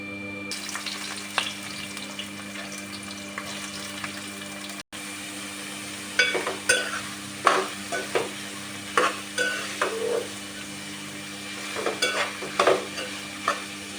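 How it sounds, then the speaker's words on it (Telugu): Onions sizzle with green chillies in hot oil, the frying sound broken by repeated scraping bursts from stirring, close and fairly loud with no speech. "ఇప్పుడు దాంట్లో ఆనియన్ వేసుకుంటున్నా."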